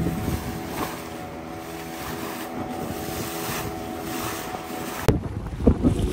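A tourist boat motoring between two islands off the Konkan coast near Nivati, with a steady engine drone and rushing wind and water throughout, then a louder buffeting burst of wind near the end.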